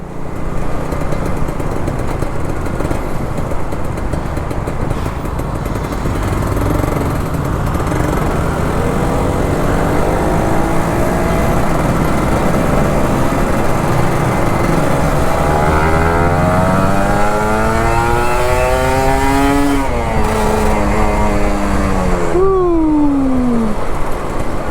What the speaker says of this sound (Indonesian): Di tengah kemacetan lu bisa ngegas tipis-tipis, itu anugerah bro.